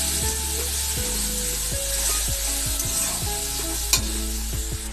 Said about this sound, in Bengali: আমি একটু অল্প একটু জল অ্যাড করবো, করে নাড়বো, নাহলে এটা পোড়া লেগে যাবে।